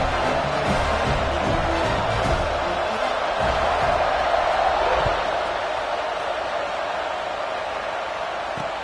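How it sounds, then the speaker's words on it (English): A steady, dense roar of a stadium crowd fills a college football video game arena before a kickoff, loud and sustained with a broad crowd hiss and faint scattered thuds. "this crowd now ready to get behind them"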